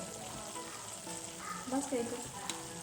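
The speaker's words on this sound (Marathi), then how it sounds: "बघा आता केळी टाकणार त्याच्यामध्ये." Banana pieces fry in hot oil for prasad, giving a steady close sizzle with a few brief stirring sounds, and a voice speaks softly over it.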